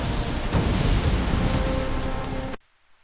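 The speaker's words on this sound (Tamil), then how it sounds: "இந்த புயல் எங்கிருந்து வந்தது?" Stormy sea with loud broadband roar of wind, rain and crashing surf, a low rumble swelling near the start, cutting off abruptly to near silence before the end; used as an effect in a Tamil moral story.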